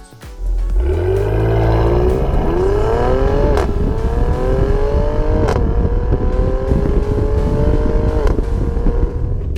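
A 2016 Mercedes-Benz GLE 450 AMG 4MATIC with a 362-horsepower biturbo V6 revs hard, its loud snarling engine note climbing in pitch and sustaining over several seconds, heard close and alone.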